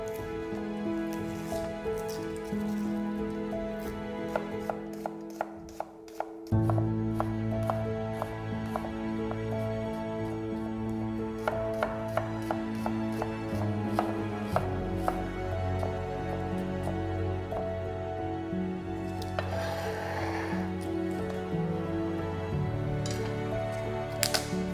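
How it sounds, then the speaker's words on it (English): A knife finely chops a red onion on a board in rapid, rhythmic bursts of crisp taps, close and clear over continuous background music. "One red onion, finely chopped."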